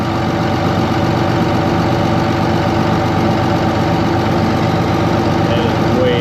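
A tractor engine idles steadily throughout at close range during a hydraulic pump test, a constant low rumble with no clear revving.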